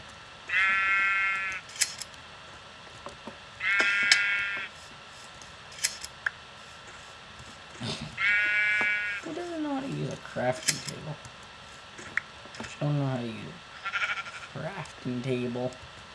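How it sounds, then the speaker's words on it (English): Blocky sheep from Minecraft bleat three times, each a short buzzy call, while a player talks in between and quick clicks and taps from the game sound around them. "Let's just find some more sheep."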